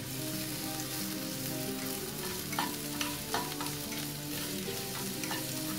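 Sliced onion sizzles and fries in coconut oil in a pan, with a steady, close crackling hiss and occasional stirring scrapes, no voices.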